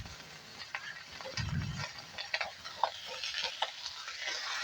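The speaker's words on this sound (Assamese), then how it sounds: "এনেকৈ লৰাই দিব এটা খন্তিৰে।" Masoor dal stirred in a pan with a spatula, giving faint scraping and ticking strokes over a low sizzle, with a brief dull thud early on.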